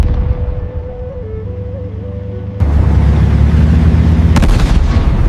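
Leopard 2 and Challenger 2 main battle tanks firing their guns: a sustained heavy low rumble that jumps louder partway through into a dense, booming roar, with a sharp crack near the end.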